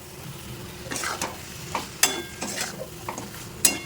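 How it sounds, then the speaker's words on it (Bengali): Chicken and fried potatoes being stirred through a turmeric spice masala in a little oil, spatula scrapes and clinks landing in an irregular rhythm over a low steady sizzle, close and fairly quiet. "আবার বেশ ভালো মতো কষিয়ে নিতে হবে"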